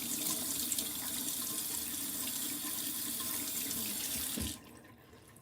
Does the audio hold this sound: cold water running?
yes